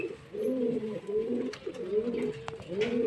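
Pet pigeons coo close by in a series of soft, low, rolling calls repeating in quick succession, with faint background noise and no talk.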